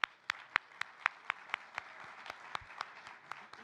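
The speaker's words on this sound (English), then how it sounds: "Another round of applause for that young lady." Sparse audience applause at an evening event, a dozen or so distinct claps in an even rhythm, faint and fairly distant, gradually thinning out, with no speech over it.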